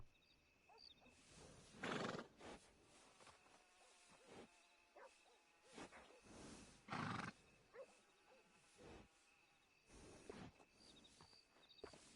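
A horse in the video game Red Dead Redemption 2 whinnies twice at a stable, with two loud, close neighing bursts standing out against quiet ambient game sounds and a few soft footsteps.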